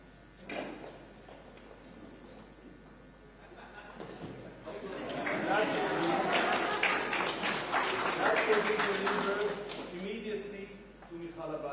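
An audience at the U.S. embassy site ceremony in Jerusalem breaks into sustained applause that swells for several seconds and then fades, with chatter and a few voices over it, heard from a distance.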